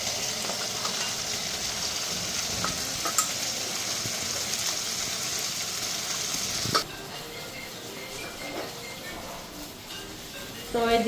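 Okra frying in a pan, continuous close sizzle and hiss for several seconds, then a sharp clatter and a quieter stretch with occasional scrapes and voices in the background.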